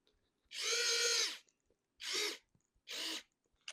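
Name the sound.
ANDELI rechargeable electric precision screwdriver tightening a screw into board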